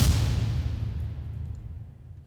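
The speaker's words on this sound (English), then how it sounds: "So I created big impact hits, which sound like this." Big cinematic impact hit layered from three samples for game trailer music, a single loud boom with a dense low rumble that decays slowly over about two seconds, heard alone.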